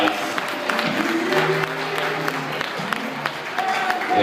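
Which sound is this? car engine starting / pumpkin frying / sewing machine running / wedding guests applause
wedding guests applause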